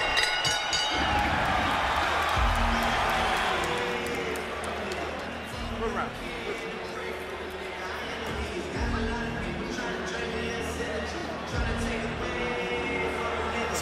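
Boxing arena crowd at Jean Pascal vs Sergey Kovalev roaring in response to a left hook, a dense, loud, sustained crowd noise with a commentator talking over it.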